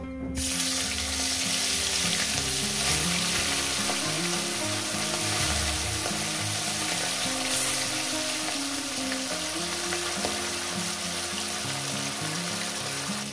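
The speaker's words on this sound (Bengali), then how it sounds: "আর একেবারে মাছগুলো একেবারে ভেজে নিচ্ছি" Fish pieces fry in hot oil in a pan for a fish curry, giving a loud, steady sizzle that runs unbroken throughout with no talking.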